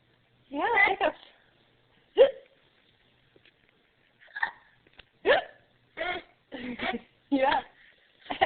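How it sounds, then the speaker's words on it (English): A baby hiccups repeatedly at uneven intervals, each short close catch of breath sharp and distinct, with soft baby vocal sounds in between and otherwise quiet surroundings. "You have the hiccups."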